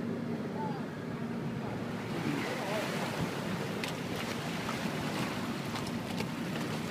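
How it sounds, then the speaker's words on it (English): A water taxi crosses the lagoon in Venice on the way to the airport, with a steady motor drone, splashing waves and gusty wind buffeting the microphone throughout. "The water taxi."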